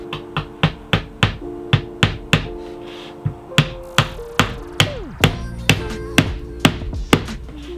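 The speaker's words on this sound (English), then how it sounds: "I'm just going to put a couple nails in here now." A hammer drives nails into plywood inside a van conversion build, sounding about fifteen sharp, evenly spaced blows that ring with a resonant tone, close and loud, with no talking.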